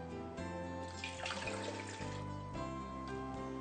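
Steady rush of water pouring continuously into a bread machine pan, fairly close and constant, with no voices.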